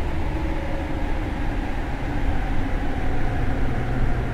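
Steady low rumble and rolling noise of a train slowing down in the horror game Platform 8, broadband and continuous throughout with no talk over it.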